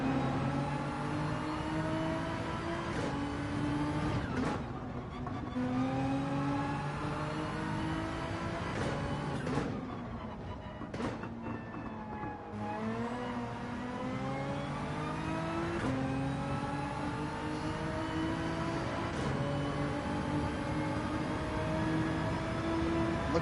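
Race cars driving in Gran Turismo 7 during a World Manufacturer Cup qualifying race, engines droning and revving steadily through gear changes, with brief cut-offs under braking, loud and continuous with no talk.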